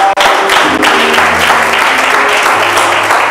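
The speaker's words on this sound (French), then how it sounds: "On acclame." A church congregation applauds during a sermon, a steady, loud wash of clapping that lasts throughout with no pauses.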